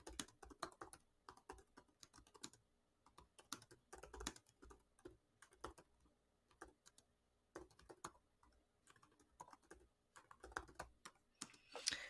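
Computer keyboard typing, with quick irregular bursts of light clicks and short pauses between words, close and fairly quiet, with no voices.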